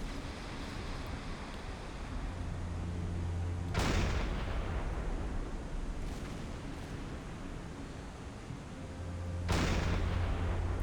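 Naval gunfire in Silent Hunter 5: two heavy booming shots about six seconds apart, each a sharp broadband blast fading into rumble, over a constant wash of sea and wind.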